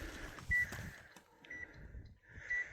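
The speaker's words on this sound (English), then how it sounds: "Meter's actually beeping at us now." Faint electronic beeps from a Geiger counter at a mine, a short tone at the start and another near the end, against quiet background rustle.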